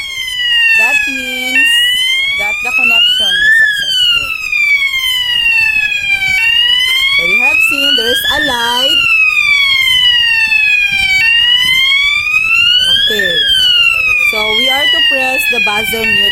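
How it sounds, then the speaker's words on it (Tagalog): An FDAS fire alarm set off from a manual pull station wails loudly with a repeating rising-and-falling electronic siren tone, steady and close, with no talk over it. "So I am going to press the manual pull station."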